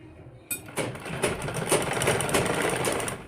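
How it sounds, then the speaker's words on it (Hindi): A sewing machine stitches along the edge of a kurti collar; after a click it starts up and runs in a continuous close whirring hum with rapid needle ticks to the end, and no one speaks. "मैं आपको सिलाई मार के दिखाती हूँ।"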